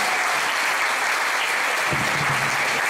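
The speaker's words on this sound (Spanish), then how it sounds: "Fuerte el aplauso para la compañera" Loud, continuous applause from a crowd at a workers' rally, honouring a fellow union comrade, a thick even wash of clapping with a faint low rumble near the end and no speech.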